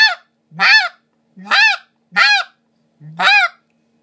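A snow goose call imitates geese barking, five loud clipped honking notes in an even rhythm, each a short rising and falling bark separated by silence, close and clear.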